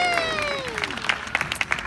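An audience claps at a sea lion show, scattered hand claps building into a patchy round of applause while a sliding whistle-like tone fades at the start.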